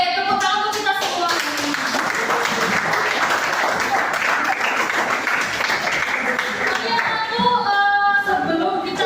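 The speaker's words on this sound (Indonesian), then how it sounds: "Oke, tepuk tangan untuk kita semua." A classroom of students claps together in a sustained burst of applause lasting several seconds, fairly close and loud, with a teacher's voice heard speaking at the start and end.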